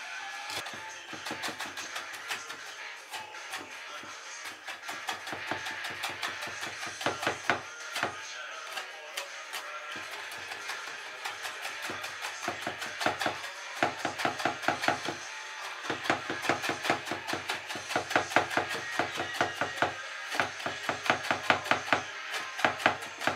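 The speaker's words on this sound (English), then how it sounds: "And then finally chop, like so." A knife chops food on a board in a rapid, steady rhythm of crisp, close taps that continues throughout, with a few brief pauses.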